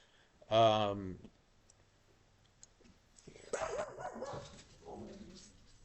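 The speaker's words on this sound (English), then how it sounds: "There's the dog again" A dog barks once, close and loud, in a room, followed by quieter background vocal sounds and soft clicking.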